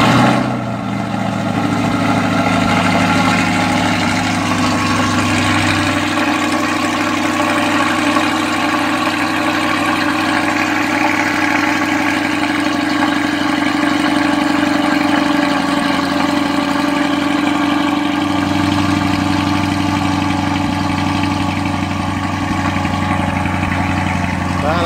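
A Corvette C8 with aftermarket exhaust and catalytic converters idling close by, its deep exhaust rumble holding steady with slight swells throughout.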